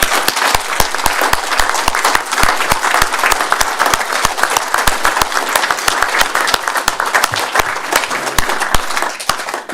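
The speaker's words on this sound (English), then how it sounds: "it'd be nice to give Barry a round of applause as a way of saying thank you" A meeting audience gives Barry a round of thanks: dense, loud applause from many hands, sustained and even for the whole stretch, with sharp individual claps standing out through the wash and no talk over it.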